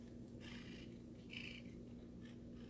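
A male cat purrs steadily and close up, a continuous low rumbling drone with a few faint higher rustles over it and no talking.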